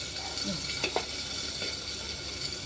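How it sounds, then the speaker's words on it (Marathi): Green chillies roast in oil in a pan, giving a quiet, steady sizzle with a couple of soft clicks from stirring. "अशा मिरच्या छान भाजल्या."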